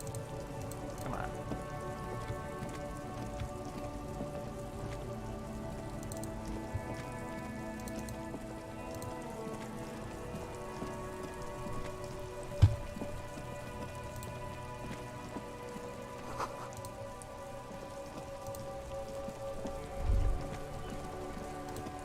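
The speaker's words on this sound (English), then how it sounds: "Rain drips from the eaves and floods the gutters, washing the filth away." Steady rain falls over the city of Revachol in the Disco Elysium video game, a continuous even patter with dripping from eaves and running gutters, heard alone with no talk and a few louder drops standing out.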